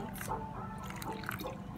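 Water is poured into Golden Morn cereal made with powdered milk, giving a close, faint trickling and dripping splash over a low background hum.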